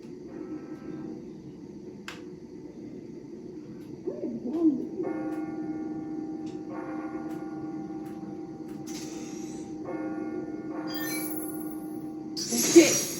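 Bells ringing in the Spider-Man Miles Morales game, a sustained tolling tone held under faint game ambience, with a few brighter chime strikes and a soft clack near the end.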